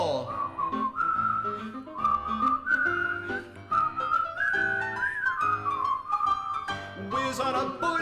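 Melodic whistling in a stage musical about dogs, a clear wandering tune carried over sparse musical backing, steady and close throughout.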